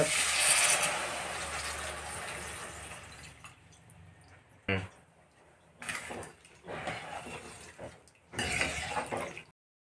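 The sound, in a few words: pouring tamarind juice into sambar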